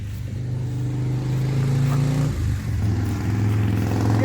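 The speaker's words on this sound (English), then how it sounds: "here comes Steven rumbling down the road" A vehicle rumbling down a road near fall trees, a loud, steady low engine drone that dips briefly midway and then holds, close by, with no talking.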